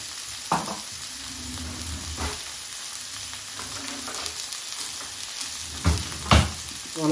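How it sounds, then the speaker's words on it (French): Meat seasoned with paprika and curry sizzles steadily in a hot pan, a constant crackling hiss with occasional stirring scrapes and clunks, close up and unaccompanied by speech. "On va juste saisir notre viande un petit peu."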